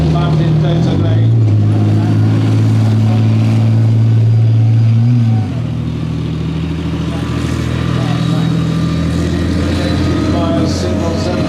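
Challenger 1-based armoured recovery vehicle with dozer blade and winch, its engine driving with a steady low rumble and a rising rev note that drops off midway, loud and near, with a commentator talking over it.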